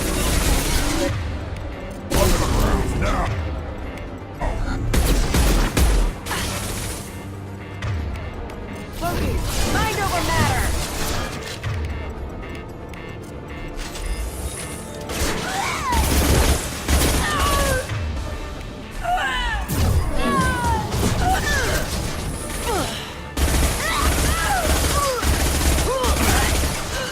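Heavy gunfire and impacts in the sci-fi game Mass Effect 2, loud bursts of shots, crashes and mechanical clatter layered with game music and voices speaking throughout.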